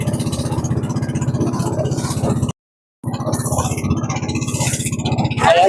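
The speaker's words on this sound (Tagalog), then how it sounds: "pinanda nila yung dalawang makina" Two boat engines drone steadily with a low pulsing throb and wind-like noise over fairly strong waves, briefly dropping out before resuming loud, heading to a fish pond at Barangay Lipacan.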